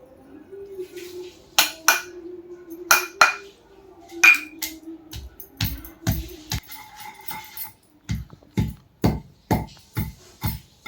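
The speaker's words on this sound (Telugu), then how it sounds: "ఇక మెత్తగా మెత్తగా దంచుకోవాలి" Chutney pounded in a stone mortar, sharp hard knocks that come irregularly at first and then in a steady rhythmic run, with a faint voice early on.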